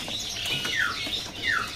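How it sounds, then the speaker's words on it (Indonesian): Mini rowo-rowo birds calling in a bird shop, a pair of short descending whistled notes over soft chirping and background chatter, close and moderately loud. "Ini ada burung rowo-rowo mini ya."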